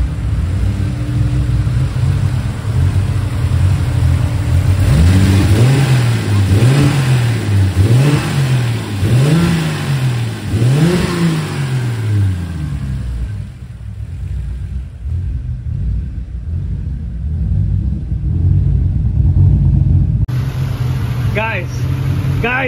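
A car engine idles with a steady low rumble, then revs in a series of rising and falling pulls around the middle before settling back to a running idle; people talk over it in places.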